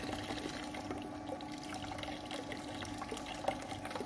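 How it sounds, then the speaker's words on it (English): Soapy water and leftover mix flush out of the freezer cylinder of a Brullen i91 soft serve machine, a quiet, steady running and splashing of liquid with a few faint drips and clinks. "that'll push all the mix and all the soapy water out of the freezer cylinder"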